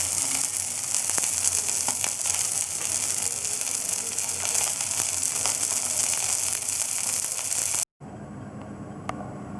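Turmeric-coated fish pieces fry in hot oil with a dense, steady close sizzle and crackle that cuts off abruptly near the end, followed by a quieter hiss.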